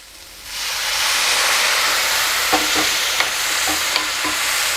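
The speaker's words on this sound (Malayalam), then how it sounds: "തക്കാളി ചെറുതായിട്ടൊന്ന് വഴണ്ടി വരുമ്പോൾ ഇതിലേക്ക് നമുക്ക് കുറച്ച് ചൂടുവെള്ളം ചേർത്ത് കൊടുക്കണം" Hot water poured into a pan of sizzling tomato curry sets off a loud, steady hiss of frying and steam that swells in and holds, with a few faint clinks.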